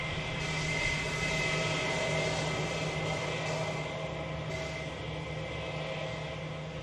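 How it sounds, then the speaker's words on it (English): An aircraft on final approach at Manchester Airport roars steadily with a loud, sustained engine drone and a broad rumble that stays constant across the whole stretch, with no voices. "There's an aircraft on finals as well."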